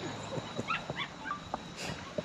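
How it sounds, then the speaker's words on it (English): A dog gives a series of short, fairly faint yips and whimpery barks at irregular intervals against a quiet room background. "We've got the dog, if you couldn't tell."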